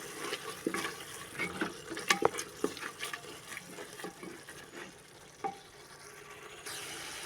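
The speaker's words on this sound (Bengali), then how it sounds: "এবার দিয়ে দেবো কেটে রাখা আলু আর ডাটা এবার ভালো করে কষিয়ে নিয়ে" Spices, cut potatoes and drumstick stems are sautéed in a pan, with a steady soft sizzle broken by repeated spatula scrapes and knocks. Toward the end the stirring thins out into a low hiss.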